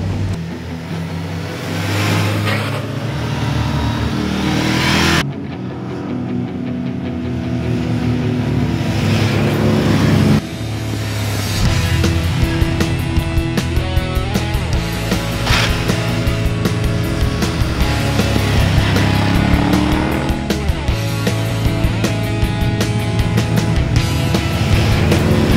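Retro roadster motorcycles, a BMW among them, ride past with a loud, continuous engine drone that rises and shifts in pitch throughout.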